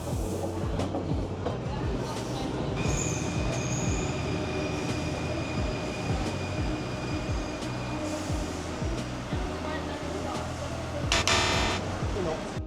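A Paris metro train pulling into République station, wheels clattering and squealing steadily along the rails for many seconds, with a high whine and a burst of hissing brakes near the end, people's voices mixed in underneath.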